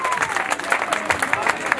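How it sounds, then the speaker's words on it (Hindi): Audience applause welcoming a guest speaker at a public gathering, dense steady clapping with crowd murmur mixed in, moderately loud and continuous for the whole stretch. "आप सबके तालियां हाथ खड़े करके इनको आमंत्रित करें भाई अरुण जेमनी साहब।"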